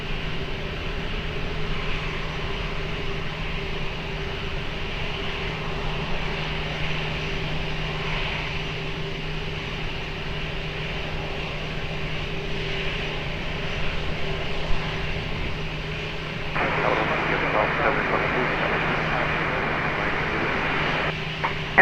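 Steady broad roar of a Delta airliner on landing approach to runway 20 at Lisbon Airport, a continuous distant jet drone with a low hum that swells into a louder rush in the final seconds.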